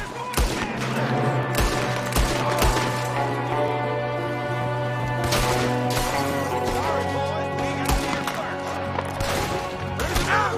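Dense gunfire from a shootout in Red Dead Redemption 2, with loud, sharp shots cracking repeatedly over a continuous musical score, close and rapid throughout with irregular spacing between bursts.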